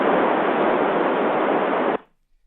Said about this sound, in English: I'll just open up my mute, the squelch, just to give you a little bit of white noise